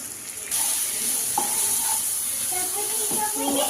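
Ground cumin, coriander powder, chaat masala and a pinch of turmeric sizzle in a hot pan while a spoon stirs them, a loud steady hiss broken by light scraping taps.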